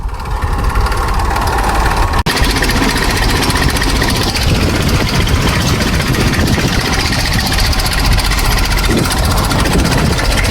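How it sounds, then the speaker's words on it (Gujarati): A tractor engine runs close and loud, a steady rough diesel chugging with constant vibration and knocking texture, one brief sharp click near the start. "હેલો ગાય ટ્રેક્ટર હાંકવા જોઈ લો"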